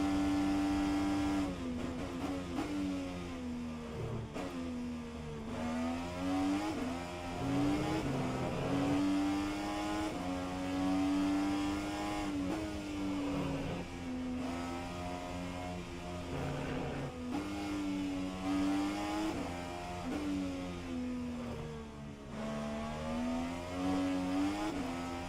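An IndyCar race car engine in the video game rFactor 2 holds a loud, steady high-pitched drone through a lap at Portland, rising and dipping repeatedly with gear changes and braking, with no voices.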